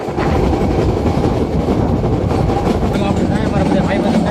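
A train rolls slowly along the track on the way to Girnar, a dense steady rumble of wheels and carriage noise heard from inside or close by, continuous for the whole stretch.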